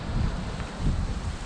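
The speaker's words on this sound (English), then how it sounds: "The old wind's a bit blustery, but in all fairness, it's not that bad." Blustery south-southwesterly wind on the coast at Lilstock buffets the microphone, a continuous low rumble that swells and eases over a second and a half.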